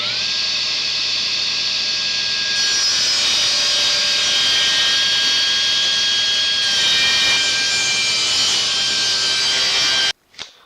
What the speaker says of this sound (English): I'm going to start this project off by ripping this 2x4 down into 4 3/4 inch strips